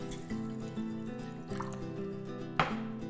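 Water is poured into a sugar and salt brining solution for curing salmon fillets, giving a soft, close trickle and splash over a steady background hum.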